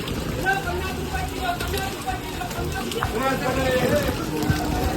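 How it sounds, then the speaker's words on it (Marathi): Heavy rain pours steadily over an outdoor market, a dense continuous wash of drops and patter with scattered background activity, no clear voices standing out. "पाऊस पण खूप आहे."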